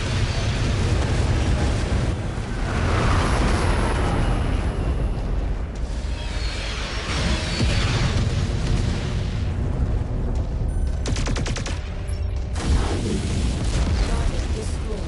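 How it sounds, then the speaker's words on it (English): In MechWarrior 5 Mercenaries, an airstrike bomb run sets off a long chain of deep, rolling explosions that fill the whole stretch, with a voice speaking over part of the blasts. "Commencing bomb run now"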